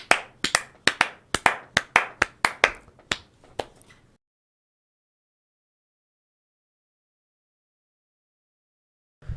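A brief burst of hand clapping, a dozen or so sharp claps in quick succession, then silence until a small thump at the very end.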